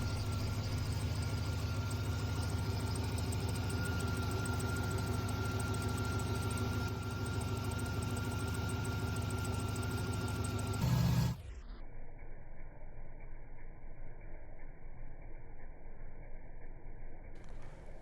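A C5 Corvette engine, before a harmonic balancer repair, idles with a steady low rumble and faint vibration for about eleven seconds, then drops to a much quieter, thinner idle hum that continues to the end.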